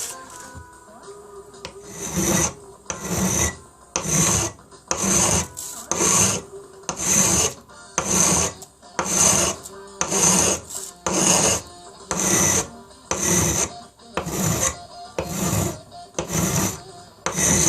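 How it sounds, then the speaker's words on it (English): A hand file rasps over a Triumph Bonneville headlight mount, leveling the metal along tape in a regular series of about fifteen loud, close strokes, with no talk. "just a little bit of filing, get that down so it's nice and level all the way around, following that tape"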